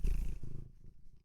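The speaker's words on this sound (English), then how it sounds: "You might be able to hear him purring" A cat purrs close by, a low rumbling that is strongest at first and then fades quickly toward quiet, with no talk.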